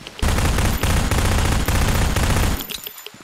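A heavy-recoil gun firing in the game ZERO Sievert: loud dense bursts of rapid shots in three quick strings, close and booming, then a sudden stop with faint residual noise and no speech.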